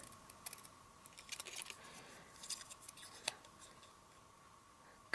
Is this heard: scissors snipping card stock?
yes